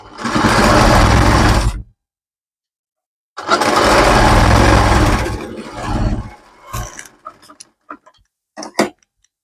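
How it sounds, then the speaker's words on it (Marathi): A sewing machine stitches fabric in two loud, steady runs separated by a pause, followed by scattered clicks and taps as the work is handled. "तर इकडे जी आपली स्टिच मारायची राहिली आहे ती मारून घेऊया."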